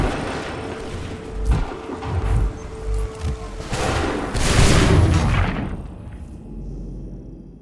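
Musket volleys in the Battle of Lexington in Assassin's Creed III, heard as rolling bursts of gunfire that swell into a loud crackling fusillade midway and then die away to quiet.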